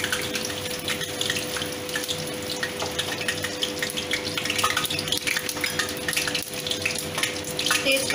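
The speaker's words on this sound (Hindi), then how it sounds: "उसके बाद तेल थोड़ा गर्म हो जाएगा, उसमें तड़का के लिए थोड़ा जीरा दे दीजिएगा।" Cumin seeds hiss and sizzle in hot oil for tempering while cooking Bengali vegetarian ghugni, a steady, close crackling fry with a faint constant hum beneath.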